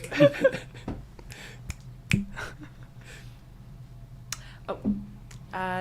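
Scattered finger snaps from a small podcast audience at a poetry reading, a handful of crisp close clicks at irregular intervals with low room noise between them.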